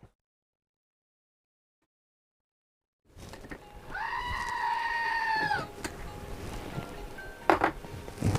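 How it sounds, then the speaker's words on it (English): A goat gives a single drawn-out bleat after three seconds of silence, fairly close and clear, followed by indistinct rustling and a few knocks. "Goat moment."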